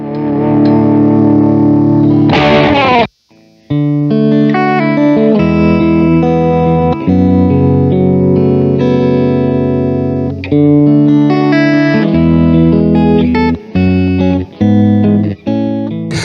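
An electric guitar plays sustained chords and melodic lines through the clean channel of a solid-state amp, loud and close, with a spacious reverb tail lingering after each note.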